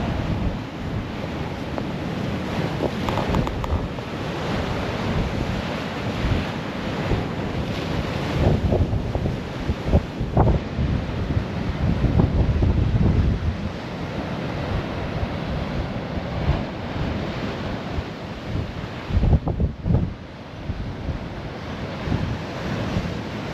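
Strong gusty wind buffets the microphone at the Folkestone seaside, with rough rumbling and surf-like wash rising and falling throughout, no talk.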